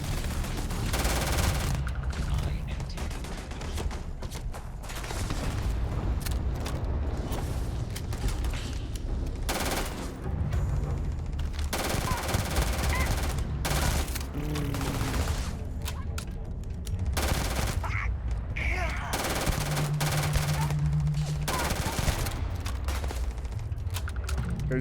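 Rapid automatic weapon fire from a gun in the space game Starfield, a loud, dense fusillade of shots rattling almost continuously for the whole stretch with only brief pauses.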